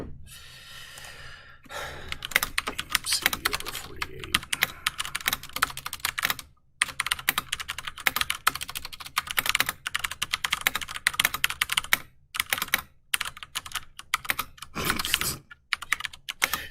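Rapid, uneven clatter of computer keys being typed, close and fairly loud, with brief pauses between bursts and no talking.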